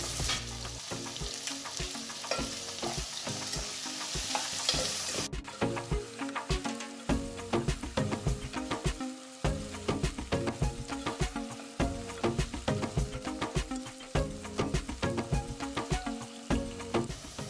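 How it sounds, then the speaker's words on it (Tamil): Chopped carrots, beans and tomatoes sauté in a hot pan: a continuous loud sizzle and crackle with repeated scraping stir strokes, close up and without talk. "கேரட்டு, பீன்ஸு, தக்காளி எல்லாம் போட்டு ஒரு 3 நிமிஷம் வதக்கிடலாம்."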